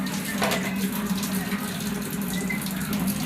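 Tap water runs steadily into a sink while a young boy washes dishes, a close continuous gushing stream with faint clinks and a voice speaking briefly underneath.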